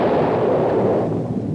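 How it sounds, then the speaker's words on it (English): An atomic bomb explosion sound effect: a continuous, loud, roaring rumble with dense crackling texture, sustained evenly across a short stretch and slightly easing toward the end, with no voices. "blow up the bomb"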